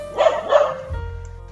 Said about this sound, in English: my dog, telling me off for not playing with him